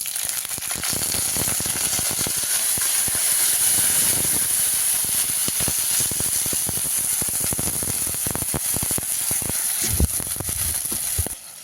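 Water poured into a hot oil tempering for gram-flour khaman sets off a loud, continuous steaming hiss and sizzle that holds close and strong for about eleven seconds, with a few clinks, before it drops away at the end.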